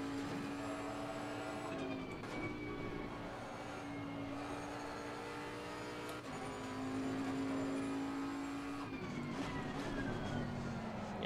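A Bentley Continental GT3 2018 in the racing sim Assetto Corsa Competizione drones steadily at racing speed around Kyalami, its engine note holding a sustained tone that rises and falls through gear changes, close and continuous without talk.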